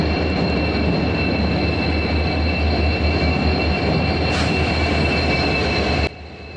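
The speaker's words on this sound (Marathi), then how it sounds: "मांडवी ट्रेन ऐटीत दिमाखात एक वेगळाच आवाज काढत आमच्या समोर येऊन ठेपली" The Mandovi Express train rumbles loudly and steadily into a station platform at close range, with a continuous heavy roar and high metallic squeal, then the noise suddenly drops.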